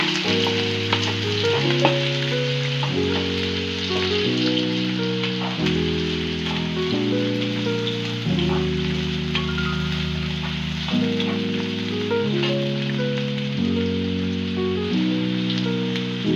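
Onion frying in about two spoonfuls of well-heated oil in a pan produces a continuous soft sizzle that sits beneath steady background music.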